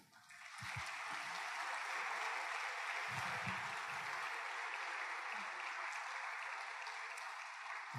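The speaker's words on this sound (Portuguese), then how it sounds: "Dê uma salva de palmas ao Senhor." A church congregation claps during a sermon, dense and sustained applause that fills the room evenly for the whole stretch and carries a few low murmurs underneath.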